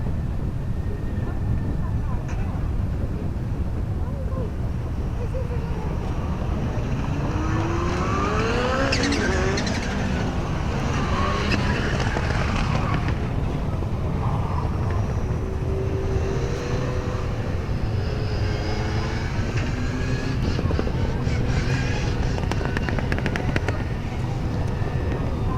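Rallycross cars run at Mondello Park, engines rising and falling as they rev and shift, with a constant rumbling bed, under a commentator's talk.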